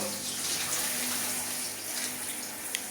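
Water sprays steadily against a shower enclosure during cleaning, a close, continuous hissing rush with a small knock near the end, no voices.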